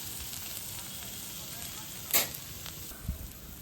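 Paneer thecha frying in a hot pan gives a steady, quiet sizzle that hisses on throughout, with a brief louder crackle burst partway and a small clatter near the end.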